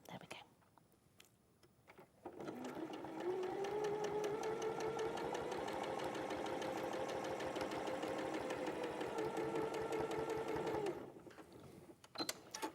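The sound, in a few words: sewing machine stitching quilt pieces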